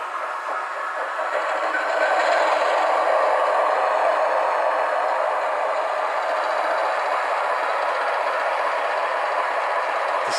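A model train engine runs on a home layout, its sound unit giving a steady hissing, rumbling locomotive noise that holds evenly throughout without speech.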